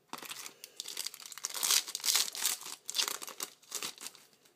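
A Yu-Gi-Oh Shadow Specter booster pack tears open with crisp foil crinkling and ripping, several bursts of rustling close to the mic over a few seconds, with no voices.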